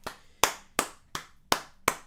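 Six sharp hand claps ring out at a steady, slightly slow pace, close and crisp, during a live football reaction to Oxford United versus Norwich City.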